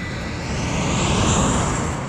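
A jet airplane taking off at McCarran airport, heard as a steady, loud broadband engine roar with a high whine that swells slightly midway and holds throughout, no voices.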